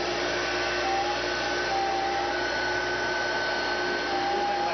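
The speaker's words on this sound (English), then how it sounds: "But what I got here is just an extractor." A carpet cleaning extractor runs steadily and loudly throughout, a continuous motor drone and suction roar with no pauses.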